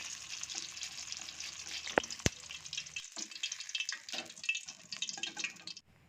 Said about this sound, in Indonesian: Lalu aku goreng bawang putih dan juga bawang merahnya, digoreng sampai mateng ya.